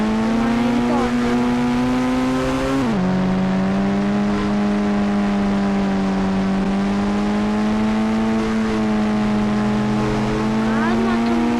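Car engine driving with a strong, steady drone that dips once early as the gear or speed shifts, then holds loud and close throughout.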